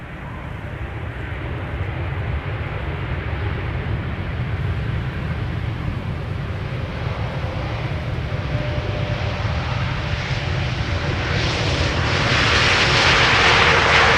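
Icelandair Boeing 737 MAX 8 at Amsterdam Schiphol Airport, a steady broad jet engine roar that swells louder toward the end, heard from a distance with no talk.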